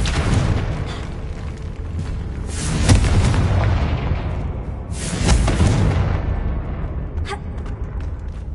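Confringo spell explosions in the video game Hogwarts Legacy, two loud booming blasts a couple of seconds apart, each rolling off into rumbling debris, with quieter game sounds between.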